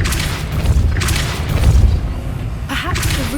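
A Depulso spell blast in the video game Hogwarts Legacy, a series of deep booming thumps and whooshing bursts amid continuous game ambience, with a voice briefly heard near the end.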